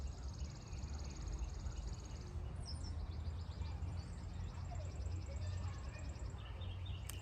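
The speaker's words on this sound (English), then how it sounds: "Y'all hear them birds chirping?" Birds chirp outdoors in short, high, scattered calls that rise and fall, fairly faint over a steady low background rumble, with no talking.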